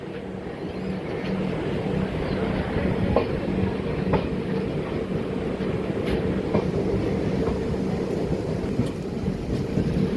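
A train rumbles steadily along the rails with a continuous clattering roar and occasional sharp clicks, heard on board a Vasco da Gama to Secunderabad train, with no talking.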